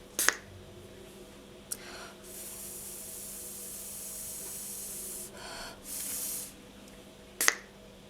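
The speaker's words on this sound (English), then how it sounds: "Now we're going to spray it with the alcohol" Alcohol is sprayed onto a polymer clay pendant in two hissing bursts, a long steady one and a shorter one after it, with sharp clicks from the spray bottle before and after.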